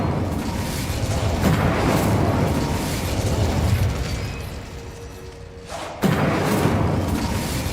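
An Incendio fire spell cast in Hogwarts Legacy, a loud, sustained roaring whoosh of flame that fades briefly before a sharp renewed burst near the end.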